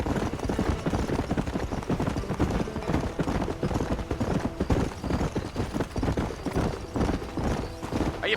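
Horse hooves clip-clop steadily and loudly at a quick, even rhythm throughout, as a rider sets off on horseback in a Western-style video game.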